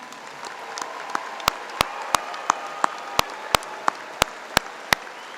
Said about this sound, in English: You can go ahead and clap for them, that'd be all right.